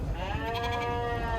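A single sustained sheep bleat at a Kyzylorda livestock market, steady and fairly close over low market rumble.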